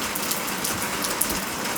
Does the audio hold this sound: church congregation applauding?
no